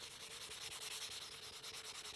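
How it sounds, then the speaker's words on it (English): A fine 120-grit sanding block rubs across a glass planter in steady, close scraping strokes, a continuous gritty hiss with slight rhythmic swells, with no voices. "sanding block. I'm just going to go through here and just take that first layer off of it."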